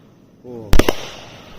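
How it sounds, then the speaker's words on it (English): At a Fourth of July fireworks finale, canister shells burst in two sharp, loud bangs close together, preceded by a rising hiss and followed by a fading rumble. A voice is faintly audible just before the blasts. "Wait, were those the 1, 2, 3 canister shells?"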